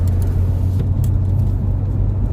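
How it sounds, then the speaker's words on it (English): Steady low rumble of slow-moving car traffic on a freeway on a Sunday, a continuous even roar with no voices. "Looks like the freeway is pretty slow, nothing happening."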